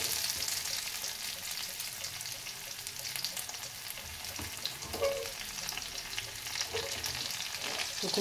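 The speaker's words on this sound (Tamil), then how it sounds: "நம்ம கிண்டும் போது தாளித்து அந்த சவுண்டு வரணும்" Onions and spices sizzle and crackle steadily in hot oil on a low stove flame as a tempering for sambar rice, a continuous close frying hiss with occasional stirring pops.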